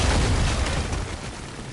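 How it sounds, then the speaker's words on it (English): A big explosion in the action video game God of War (2018) booms loud and close, with a dense low rumble that fades out over under two seconds, with no voices. "That explosion sound was really satisfying in my headphones."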